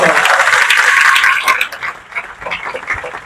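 A large audience at an educational event in Basti breaks into loud, dense applause for selected students, swelling strongly at first and then thinning into scattered clapping.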